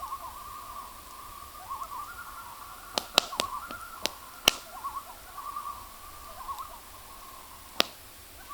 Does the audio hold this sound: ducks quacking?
no